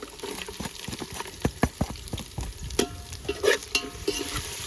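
Whole garlic cloves and curry leaves frying in a pan over an outdoor cooking fire in the forest, a steady close sizzle broken by irregular scraping stir strokes.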